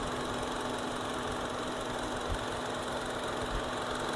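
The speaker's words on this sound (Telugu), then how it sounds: "చాలా సైలెంట్ ఉందండి ఇంజన్" Hyundai i20 Sportz engine idling quietly: a steady, faint low hum with a constant tone and no revving, heard alone for the whole stretch.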